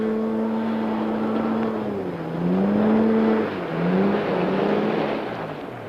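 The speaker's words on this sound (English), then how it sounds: "Skimmer 4 can carry more than its own weight at speeds of around 30 knots" A Pindair Skima 4 hovercraft runs at speed around 30 knots, its engine giving a loud, continuous drone with a steady tone that dips and rises in pitch as it swells.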